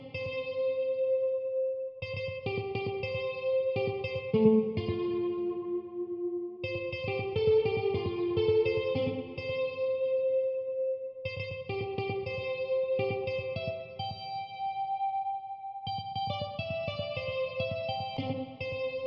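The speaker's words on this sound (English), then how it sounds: "you can stack up different reverb in the same effect chain" A synth beat in FL Studio run through stacked reverb effects, repeating melodic phrases with long washed-out tails and echoing decay, steady and moderately loud, with no voices.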